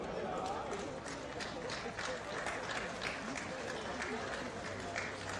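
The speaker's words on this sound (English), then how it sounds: "a big round of applause here from the crowd lining the banks in Duisburg for the gold medalists" Outdoor crowd lining the riverbanks at a canoe sprint regatta in Duisburg applauds the K2 women's 200 m gold medalists, a steady broadband wash of clapping and cheering with an announcer's voice running over it.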